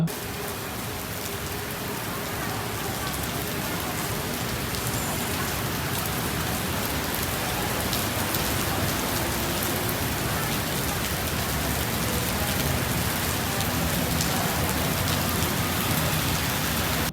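Heavy rain pours steadily outside the Apple store at CentralWorld, a dense, loud, unbroken hiss of downpour with no letup, no voices.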